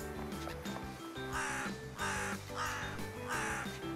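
A crow caws in repeated bursts over steady background music, the calls fairly close and clear, with no talking alongside.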